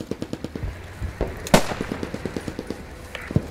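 Machine gun fire in the WWII shooter Post Scriptum, a rapid, evenly spaced string of close, sharp shots running throughout, with one heavier blast near the middle and a louder shot near the end.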